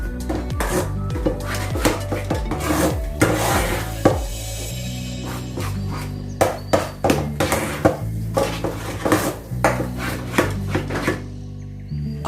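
Khoa is stirred and roasted in a pan on the stove for a gujiya filling, with repeated scraping and knocking of a spatula against the metal pan, loud and close, in an uneven continuous rhythm and without talk.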